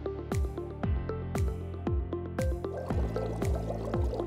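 Building pit odor-prevention aerator (JB/JBF series) jetting sucked-in air together with water into a tank, giving rhythmic liquid gurgles and splashy drips about twice a second over a steady tonal hum, close and continuous.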